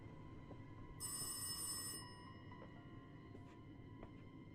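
Telephone ringing in the horror game Rise of Insanity, one faint, high bell-like ring lasting about a second, followed by quiet ambience and a few soft clicks.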